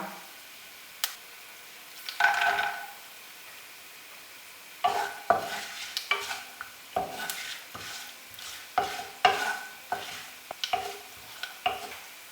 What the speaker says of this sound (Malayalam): തേങ്ങാക്കൊത്ത് മൂത്ത് തുടങ്ങുമ്പോൾ നമുക്ക് നട്ട്സ് ഇടാം